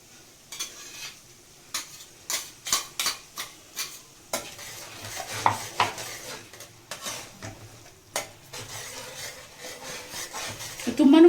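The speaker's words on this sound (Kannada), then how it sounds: "ಇದನ್ನು 2 minutes ಫ್ರೈ ಮಾಡ್ಕೊಳ್ಳೋಣ" Green chilli chicken with green chilli sauce frying in a pan, Andhra style, with a steady stream of sharp spoon scrapes and clinks over a soft background sizzle, close and fairly quiet.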